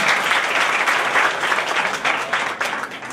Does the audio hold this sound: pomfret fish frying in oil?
no